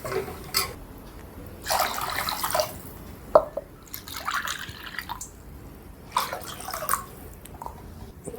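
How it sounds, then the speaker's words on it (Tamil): Tamarind water poured into a village-style eel fish curry in a pan, heard as splashy liquid pouring in several bursts with drips and light clatter between them, close by and moderately loud, no voices. "இந்த டைமில் கரைச்சி வச்சுருக்க புளி தண்ணியை ஊற்றிக்கலாம்"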